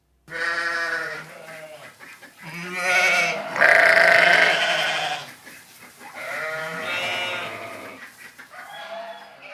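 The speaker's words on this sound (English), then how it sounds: "Those be my sheep." Several loud, wavering sheep bleats in close succession, nearby and clear, with no talking.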